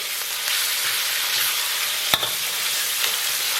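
Bean paste and chili sauce stir-frying over low heat in a wok for spicy beef tripe, a steady broadband sizzle with soft scraping stirs and one sharp clack of the spatula against the pan.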